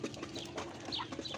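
Farm birds and quail call together at a farm, a busy chatter of short chirps and clucks from several birds, moderately close and fairly quiet, with no talk.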